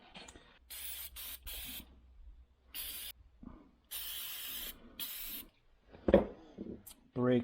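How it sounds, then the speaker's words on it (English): Brake cleaner sprayed in repeated short and longer bursts of hissing aerosol onto 2001 Suzuki DRZ400S motorcycle parts during a stator and spring refresh, with pauses between blasts and brief talk near the end. "Brake cleaner, I love you."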